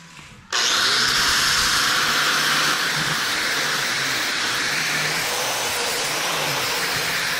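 A power sander working the edge of a custom sheet metal hood molding, starting abruptly after a brief quiet moment and then holding a loud, steady, close abrasive whir with no talk.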